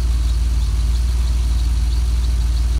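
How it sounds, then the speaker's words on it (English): A cold DeLorean engine idles steadily a minute or two after starting, a loud, close, even low rumble with a fine rhythmic pulse and no talking over it. "This is cold, the engine's first turning on now"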